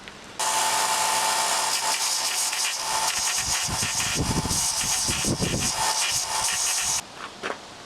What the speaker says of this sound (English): I'll just use the Dremel tool for carving my brand